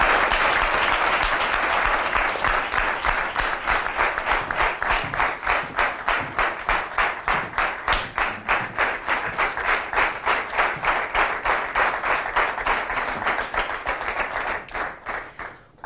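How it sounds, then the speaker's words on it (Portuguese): A television studio audience claps in a long, loud burst of applause that settles into a rhythmic unison beat before fading at the end, with no speech over it. "Uma salva de palmas para nós."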